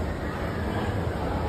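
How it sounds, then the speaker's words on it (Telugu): Local train at Old Delhi railway station, a steady broadband rumble of rolling stock close by on the platform, continuous and loud with no break, no voices over it. "ట్రైన్ చూడండి అంత పక్కన ఉంది లోకల్ది"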